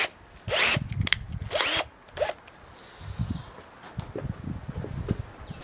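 Power drill boring into soft wood while building an adjustable ramp for RC cars, in three loud, short bursts early on, followed by quieter rubbing and handling noises.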